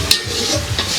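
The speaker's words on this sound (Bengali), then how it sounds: "মাংসের কষানো, মাংস চলতেছে রান্না।" Meat being stir-fried and stirred in a pot during a village home cooking session, with a steady sizzle and a couple of sharp scraping stirs, loud and close with no talk.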